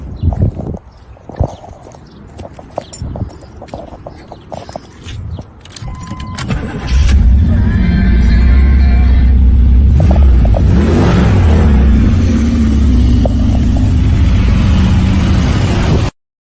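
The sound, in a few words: Camaro muscle car engine starting and revving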